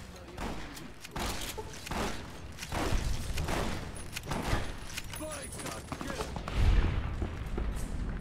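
Enemy gunfire in the video game Fallout: New Vegas, a rapid string of close, sharp shots and bursts in clusters over several seconds, with a heavy thump near the end and someone talking over it.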